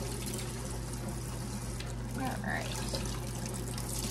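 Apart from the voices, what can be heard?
tap water running while washing cheese grater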